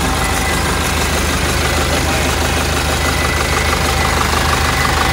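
A Yanmar F97D tractor's four-cylinder engine runs steadily and loud up close, a continuous rumbling drone with no breaks.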